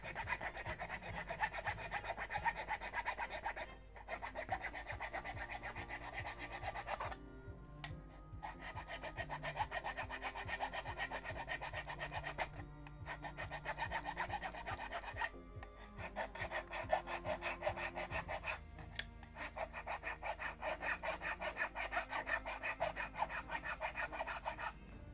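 Sandpaper rubs on the wooden skeleton of a 1:76 Mayflower model ship kit, repeated close scraping strokes in bursts separated by short pauses.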